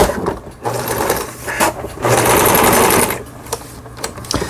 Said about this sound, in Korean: 아래실, 위실, 장력 정상적으로 박음질 되고 있습니다